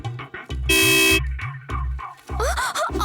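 A vehicle horn honks repeatedly in short, loud blasts with one longer held blare, close by and punctuating a busy street scene, with voices and other sounds mixed in between the toots.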